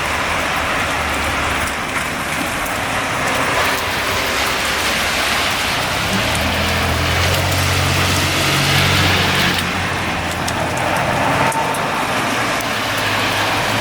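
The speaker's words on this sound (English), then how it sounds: "Look at all the hailstones." A hailstorm in Santa Monica, California pelts the ground and surfaces with a dense, steady hiss of falling hailstones, loud and unbroken throughout, with a low rumble of passing traffic underneath.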